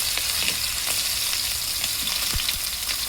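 Chicken pieces sizzling and frying in very hot ghee in a pan, a dense continuous crackle with a few sharper pops, close and loud with no talking.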